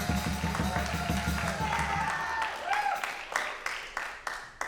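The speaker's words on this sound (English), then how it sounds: "Let's see how John receives this applause." Audience applause and scattered cheers in a room at a jazz and blues camp masterclass, greeting the drummer as he is introduced; dense clapping that thins and breaks into a few separate sharper claps toward the end.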